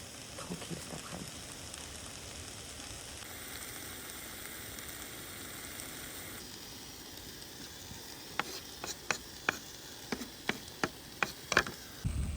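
Tofu scramble sizzling in a pan while cooking outdoors, a steady soft hiss with a run of sharp crackles and pops toward the end, fairly faint.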